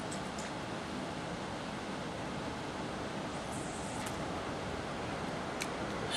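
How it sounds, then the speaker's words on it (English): Light rain falls at night beside the water on a pike fishing trip, a steady soft hiss that holds evenly throughout with no voices. "It started raining a little bit"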